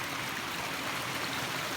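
Crabtree Rivulet in Tasmania, a rocky stream near small waterfalls, rushing in a steady, close, broadband wash of flowing water with no other sounds.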